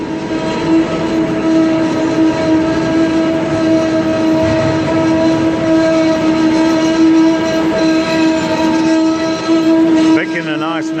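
A lathe turning and boring an Inconel workpiece makes a loud, sustained whining hum with steady tonal lines and a grinding texture. The sound cuts off abruptly near the end.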